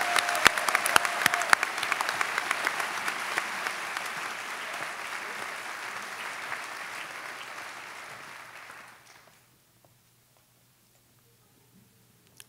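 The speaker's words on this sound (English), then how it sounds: "Please join me once again in a round of applause for all of our outstanding professors." An audience at a university convocation gives professors a sustained round of applause with dense clapping, which gradually fades and stops after about nine seconds, leaving near silence.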